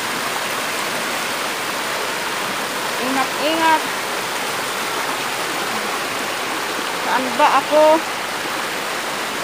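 Naruron Falls waterfall roaring as a steady, dense rush of falling water, loud and constant, with people talking briefly over it.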